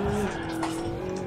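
Car tires squeal through a skid after a missed braking point in the Gran Turismo Sport racing game, a short steady screech over the engine drone.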